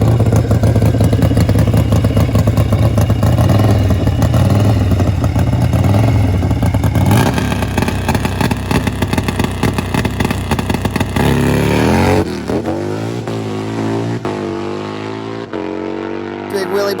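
Harley-Davidson bagger drag motorcycles race side by side, their engines roaring loud and continuous, with a rising, shifting drone that drops in pitch as they pass. An announcer talks over the noise.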